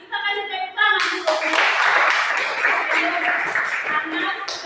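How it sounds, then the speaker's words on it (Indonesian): An audience claps during a poultry brooding lesson, starting just after a brief stretch of talk and continuing as a steady, dense round of applause, fairly close and loud, with voices mixed in. "Kita kasih tepuk tangan dulu."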